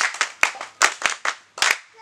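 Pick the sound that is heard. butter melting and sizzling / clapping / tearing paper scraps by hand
clapping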